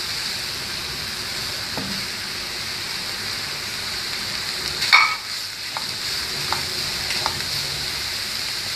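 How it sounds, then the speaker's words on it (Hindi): Chicken mince (keema) frying for spring rolls gives a steady close sizzle with occasional scrape and clink of a spatula against the pan, one louder stir knock midway. "और इस तरह इसको भी 2-3 मिनट के लिए फ्राई करेंगे इस तरह"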